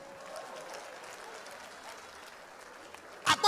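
Audience applause at a live stand-up comedy show in Warri breaks out as a short, loud burst at the very end, after a low, steady crowd murmur.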